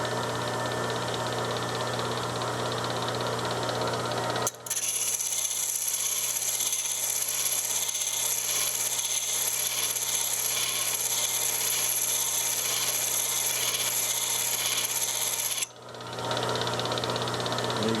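A chisel is reground on a bench grinder, the motor humming steadily while the steel meets the wheel in a bright, continuous hissing grind that starts and stops abruptly.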